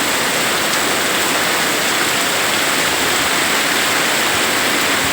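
Heavy rain pours down in a steady, dense roar that fills the air, loud and unbroken from start to finish with no voices.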